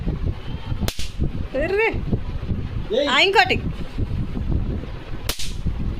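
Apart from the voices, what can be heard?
firecrackers bursting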